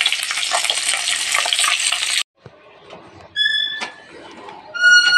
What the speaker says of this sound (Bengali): ওর মাছ ভাজা কমপ্লিট হয়ে গেছে, তো এবারে লাঠা মাছগুলো ভেজে নেব।